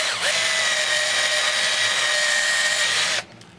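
A power drill fitted with a small, fine bit bores into a handmade wooden pipe, a steady high whine held for about three seconds that then cuts off abruptly.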